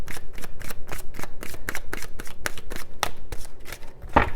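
Tarot cards are shuffled by hand in a quick, regular run of crisp riffling bursts, close and clear, ending with a sharper slap as the deck is squared.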